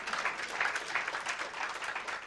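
A seated audience claps together at a moot court awards and closing ceremony, a steady, dense wash of applause at moderate distance with no voices over it.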